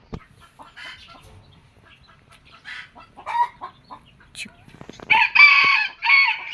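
Soft intermittent clucks from a nearby chicken, growing louder toward the end with a few sharper calls.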